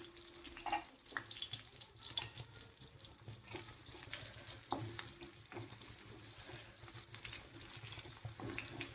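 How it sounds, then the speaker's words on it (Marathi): Green chillies sautéing in a little oil for sabudana khichdi make a quiet, continuous sizzle, broken by occasional soft stirring clinks. "तेल थोडं कमी टाकायचं मिरची छान घेऊया परतून"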